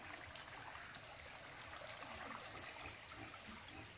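A river in flood flows with a strong current, a steady, soft, continuous rush of water that stays even throughout, with no voices.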